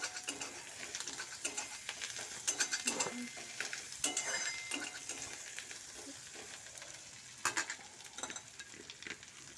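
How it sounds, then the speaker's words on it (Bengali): Half-fried onions crackle in a pan on a home stove for a Bengali thali, steady sizzling broken by repeated scraping and clattering stirs of a spatula close by. "পেঁয়াজগুলো আমার অর্ধেক ভাজা প্রায় হয়ে গেছে।"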